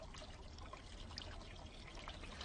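Water flowing along guttering carrying sand and pebbles into a tank, a continuous soft pouring trickle at a steady, fairly quiet level.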